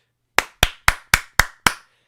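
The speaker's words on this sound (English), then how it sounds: "And want to know why I'm clapping about that?" Six sharp hand claps in an even, steady rhythm, loud and close, each ringing briefly before silence.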